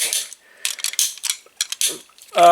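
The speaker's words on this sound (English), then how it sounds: "it does have this really nice clicking piston sound" Clicking piston mechanism in the ankle joint of a Transformers Generations Combiner Wars Leader Class Megatron plastic toy, heard as a close, crisp series of irregular ratcheting clicks in quick bursts, with a louder clack at the end.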